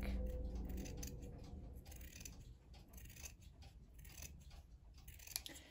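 Scissors snip strips of white, light pink and dark pink paper, giving quiet, close crisp cuts at an uneven pace over faint background noise.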